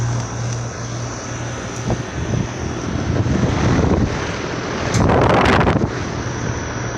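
A 2008 Trane XR13 5-ton heat pump outdoor unit at a church starting up in heat mode, a loud steady broadband whoosh of the fan and compressor with a low hum, swelling stronger toward the end, no talking.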